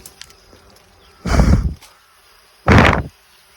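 Dwarf honey bees fly around their nest outdoors. Two brief, loud buzzing bursts pass close by, each lasting about half a second, with quiet stretches between them.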